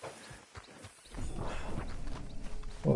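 Horse hooves clip-clopping past on a road in the video game Red Dead Redemption 2, a steady rhythm of hoofbeats that grows louder and nearer partway through.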